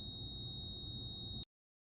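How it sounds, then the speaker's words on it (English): A loud, steady high-pitched electronic beep from a Go Power! GP-PWM-30-UL solar charge controller with a POL error sounds continuously for about a second and a half, then cuts off abruptly into silence. "A common example is turning on your controller and hearing a loud beep."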